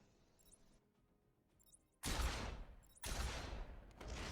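Bursts of enemy gunfire in the Batman: Arkham Asylum video game, two loud rattling volleys in quick succession after a quieter stretch of game ambience.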